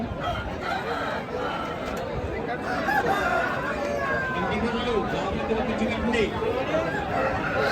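Several roosters crow over a busy crowd at a cockfight gathering with steady chatter, and chickens cluck nearby amid the lively outdoor murmur.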